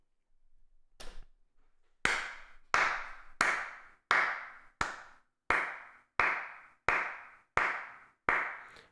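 A single person clapping their hands, about ten sharp, evenly spaced claps that ring out close and alone after a brief softer rustle at the start.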